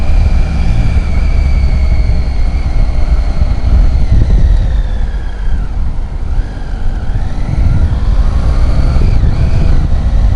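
A Triumph Tiger 800 XCA motorcycle engine on a test ride through London, a loud, continuous close engine drone with rising and falling revs and heavy wind rush.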